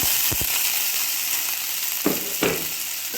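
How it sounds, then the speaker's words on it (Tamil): Drumstick leaves sauté with garlic, cumin and butter in a pan, giving a constant sizzle with a few sharp spatula scrapes and stirring knocks close by. "ஆட் பண்ணி இது நல்லா வதக்குங்க"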